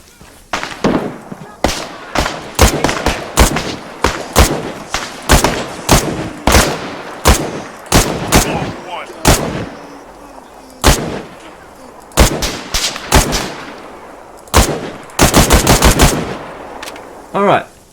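Gunfire in the video game ArmA 3 as an ambush targets a sniper: loud rifle and machine-gun shots in irregular single cracks and short bursts, ending in a rapid volley.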